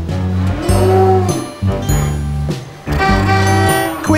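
Several cows moo loudly in a row, long deep lowing calls with short pauses between them, close by.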